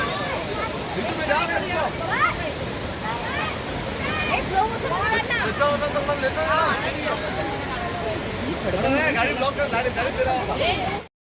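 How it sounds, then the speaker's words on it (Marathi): Large waves surge up to the shore at high tide, a continuous washing roar of surf heard close by, with people's voices chattering over it until it cuts off at the end. "भरती असल्यामुळे अर्थातच किनाऱ्यापर्यंत अगदी मोठ्याच्या मोठ्या लाटा येत होत्या"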